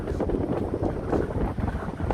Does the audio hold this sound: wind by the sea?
yes